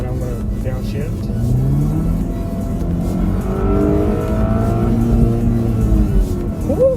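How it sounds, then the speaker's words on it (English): A 2018 Volvo V60 Polestar's engine blips and revs sharply on a downshift, its tone sweeping up and falling back, loud and close from inside the cabin with road noise underneath. "I'm gonna downshift."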